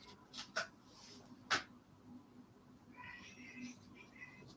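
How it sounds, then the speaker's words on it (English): In a quiet room, a cat in the next room makes a few sharp, faint chirps and cries at birds outside on a terrace, followed by softer chattering in the background. "My cat is going absolutely crazy in the next room because there are birds out on my terrace."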